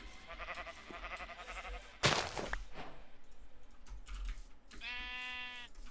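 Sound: sheep bleating in Minecraft video game

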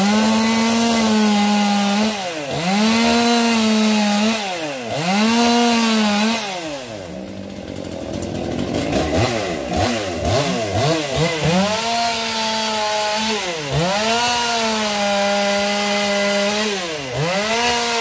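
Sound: Husqvarna 242 42cc chainsaw cutting wood

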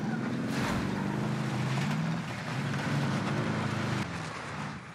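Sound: car driving in the video game Call of Duty: Warzone

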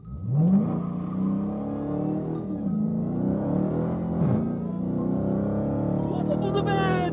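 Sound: Dodge Hellcat accelerating hard with launch control

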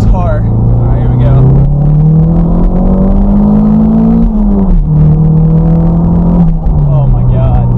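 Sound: Toyota MR2 Turbo accelerating in second gear

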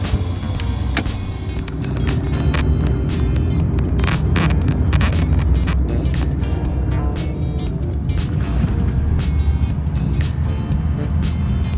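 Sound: inside a moving GV Florida sleeper bus, creaking

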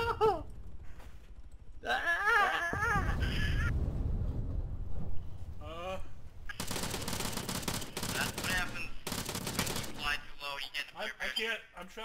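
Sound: gunfire in video game ARMA 3

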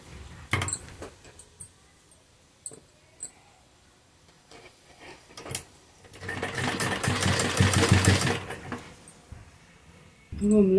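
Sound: sewing machine stitching lace onto a neckline

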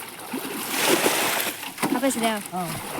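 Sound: water being splashed out while bailing a fishing pond

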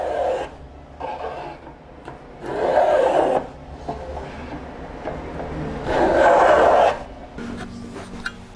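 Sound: hand sawing dovetail pins in wood

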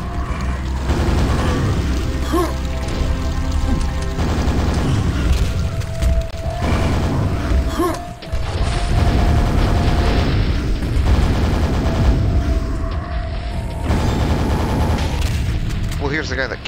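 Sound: rocket explosions in a video game (Tears of the False God)

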